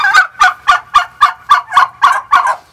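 Turkeys on a farm calling in a rapid, regular series of about nine loud, close gobbling honks, evenly spaced, with no voices.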